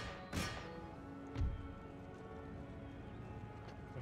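Heavy cavalry horses charge in the strategy game Empire Total War, with two distinct hoof-beat thuds standing out over a low, quiet rumble of battle noise.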